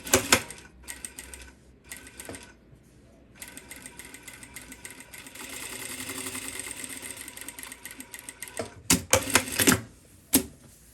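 A sewing machine stitches the fly seam of a pair of shorts, starting and stopping in short bursts, then running steadily for several seconds before a few final quick bursts, close and clear.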